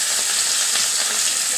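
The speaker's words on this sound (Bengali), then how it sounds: "এক পিস মাথা ছিল, সেটাও ভেজে নেবো।" A snakehead fish head frying in hot oil gives a steady, close, dense sizzle with crackling pops throughout, no voices present.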